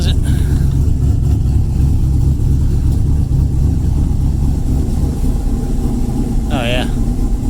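Car engine idling close by with its exhaust cutout valve shut after a repair, a steady deep rumble throughout, while a person talks over it and a short whistle-like squeal rises near the end.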